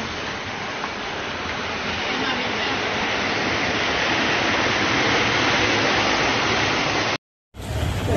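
Floodwater rushes through a street during a heavy storm in Salta, a loud continuous roar like a waterfall that holds steady for seconds and then cuts out briefly.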